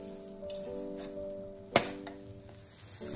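Bread omelette sizzling gently in a pan on a low flame, a soft steady crackle with one sharp clink of a spatula or pan partway through as it is flipped.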